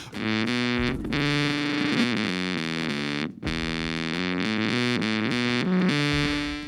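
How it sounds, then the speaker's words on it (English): An electric guitar played through a Katana Mini X amp with layered effects, tremolo, reverb, phaser or delay, gives a loud, heavily processed melodic line of sustained notes and quick shifts. "The Katana Mini X comes with dual effects sections, allowing you to layer effects like tremolo with spring reverb, or phaser with delay"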